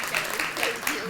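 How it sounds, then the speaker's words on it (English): An audience claps together in a brief, dense burst of applause, with a voice talking over it. "Big round of applause"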